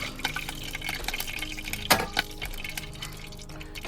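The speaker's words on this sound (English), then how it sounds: "gotta have some water in there" Water splashes and trickles into a pan for a few seconds, with a brief louder gush midway; close and fairly quiet.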